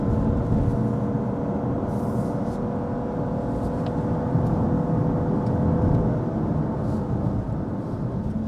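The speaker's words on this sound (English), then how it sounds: "Full throttle, full throttle, full throttle." A Lexus LBX engine under full throttle, a steady droning whir with road noise heard from inside the cabin, constant and fairly loud throughout, no talk.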